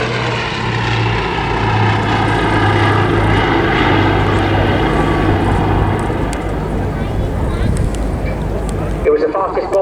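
Bristol Blenheim bomber flying at an airshow, its propeller engines droning loud and steady with a rough, throbbing hum that holds for several seconds before cutting off sharply near the end.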